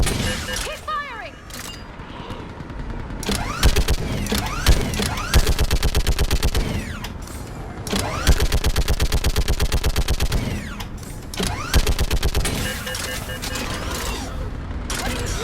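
Rapid automatic gunfire in a Mass Effect 3 battle on Thessia, loud bursts of repeated shots with mechanical clanks between volleys, some voices underneath.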